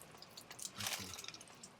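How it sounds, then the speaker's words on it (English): Water drips off a roof edge on Eleuthera, making a few faint, soft drops spread across a short, quiet stretch with no voices. "let's see, it drips off there."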